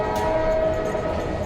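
A cartoon train sounds a steady, sustained horn blast over a rumbling running noise, loud and continuous throughout.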